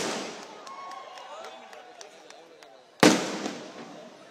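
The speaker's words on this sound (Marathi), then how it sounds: "फटाके नंतर लावा, आत्ता लावू नका." At a political rally, a firecracker bursts with one sharp, loud bang near the end, following a stretch of faint crackle and distant crowd noise.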